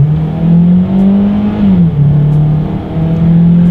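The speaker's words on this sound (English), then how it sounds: "it makes a lot of noise when you really give it the gas" A 2019 Hyundai Tucson's four-cylinder engine revs loudly under acceleration, its droning pitch climbing, dipping briefly at a gear change, then holding high again.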